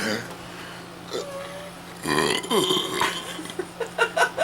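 A person burps, releasing a loud, rough belch near the middle of the clip. Fainter throaty sounds trail after it, with low room hum underneath.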